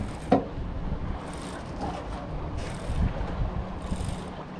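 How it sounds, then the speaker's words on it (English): Wind gusting over a bass-fishing boat on the California Delta, a steady broad rush with low rumbling buffets on the microphone, swelling and easing in several waves, close and moderately loud with no talking. "The wind is getting at me decent."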